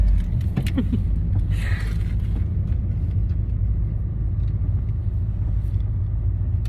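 A car rolls along slowly, its low engine rumble steady throughout, with a few faint rattles and clicks inside the cabin.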